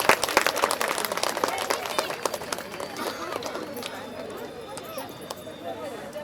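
An audience claps loudly at a women's event, a dense burst of applause that is strongest at the start and thins toward the end, mixed with crowd noise.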